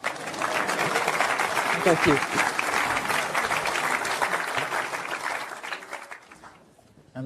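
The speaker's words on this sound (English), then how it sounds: "Applause for Jodie and his mum." Conference audience at a Commonwealth innovation event applauding a young sweet-potato entrepreneur and his mother, sustained clapping for about six seconds that thins and fades out near the end, with a brief spoken thanks over it.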